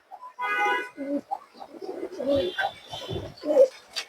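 Pigeons give soft, throaty coos in a few short, close bursts, with a brief chirp-like note near the start, in an otherwise quiet space.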